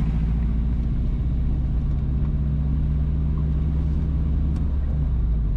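Car on the B3 road from Trouthall to Chapperton heading toward James Hill in Clarendon, Jamaica, a steady low engine and road rumble running continuously from inside the vehicle, no voices.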